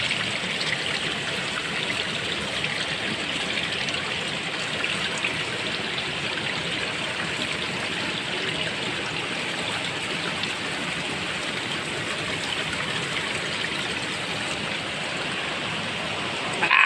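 A hillside stream flows and trickles steadily, a continuous close rushing wash of water without pauses and with no voices.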